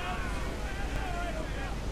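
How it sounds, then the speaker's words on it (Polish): Strong wind and rain batter a sailing ship at sea in Assassin's Creed IV: Black Flag, a dense, steady roar of gusts and spray that holds at one level throughout with no voices over it. "Przy deszczu zapewne i takim silnym wietrze."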